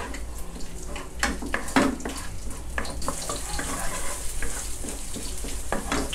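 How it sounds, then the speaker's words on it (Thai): Chicken and red curry paste stir-frying over low heat in a pan for a Thai chicken curry stir-fry, a steady close sizzle broken by scraping and clinking of a spatula against the metal. "พยายามผัดให้พริกแกงเขาหอมก่อนนะครับใจเย็นๆนะ"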